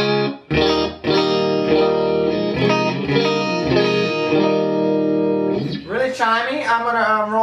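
An electric guitar plays through a Fender '68 Deluxe Reverb amp on the vintage channel, ringing out sustained chords with a short gap, then bending notes near the end.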